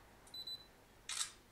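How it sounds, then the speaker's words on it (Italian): A ZTE Axon 7 mini smartphone takes a test photo: a faint high electronic beep, then a brief bright shutter click, quiet and close with no talk. "Comunque facciamo una foto di prova."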